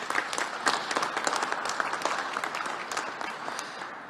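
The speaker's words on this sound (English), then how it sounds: "let's give him a round of applause for his work." An audience at a commemoration event breaks into applause, a dense, lively patter of many hands clapping that holds for about four seconds and gradually softens.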